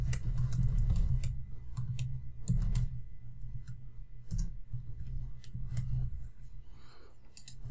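Quick, uneven keystrokes on a computer keyboard, close and fairly loud, arriving in short bursts with brief pauses between them, with no voices over the clicking.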